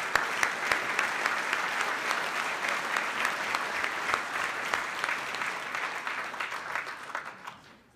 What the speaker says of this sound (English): Give a big round of applause for Central Texas.